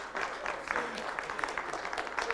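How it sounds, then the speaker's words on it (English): Crowd applause at a hydrogen-vehicle presentation on stage at the Paris Motor Show, a steady wash of clapping from many hands lasting a couple of seconds, fairly distant and even in level. "so applause."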